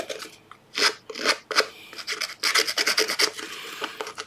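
Short rasping strokes as paper edges are roughened for handmade paper pocket birds, a series of close scratchy scrapes in uneven bursts with brief pauses between them, with no talk.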